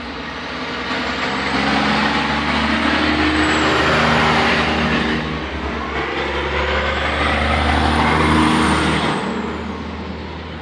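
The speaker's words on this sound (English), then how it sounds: "Those trucks have been going by since" Heavy trucks climbing a hill at night, their engines droning as each passes, swelling and fading in two broad waves with a steady low rumble and no talking.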